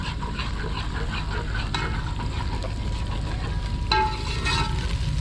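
Ginger garlic paste, about three spoonfuls, fries in a pan in village-style cooking, giving a steady close sizzle with occasional stirring scrapes and a brief louder burst near the end.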